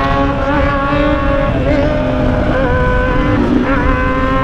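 A Yamaha Fazer 600 with an open exhaust pipe revs hard and continuously, a loud, close, raspy engine roar held high with small wavering rises in pitch.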